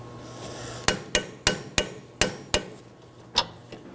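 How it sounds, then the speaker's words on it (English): Torque wrench tightening a front sway bar link nut to 74 foot-pounds on a 2018-2024 Chevrolet Equinox, giving about eight sharp, close metallic clicks spaced roughly a third of a second apart, with no talk. "I'm going to take my torque wrench and tighten it up"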